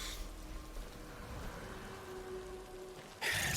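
Steady rain falls in the video game Darksiders: Wrath of War, a continuous even hiss that holds throughout and grows louder and brighter at the very end, with no talking over it.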